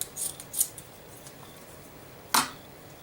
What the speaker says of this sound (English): This sock and some scissors. Make me a little patch to go down this barrel.